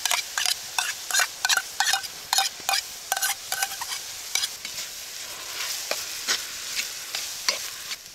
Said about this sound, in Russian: Минутки три обжариваем лук.